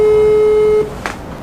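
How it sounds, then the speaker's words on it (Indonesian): Phone call ringback tone on an outgoing call: a single loud, steady pure tone held for under a second, then cut off, leaving quiet room noise and a faint brief sound. "Oke, kita telepon Elvia."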